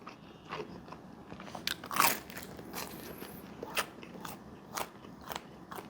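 Quiet, close bites and crunches into a Jet's Pizza cheese crust, a series of sharp crackly snaps followed by softer chewing, with no talk.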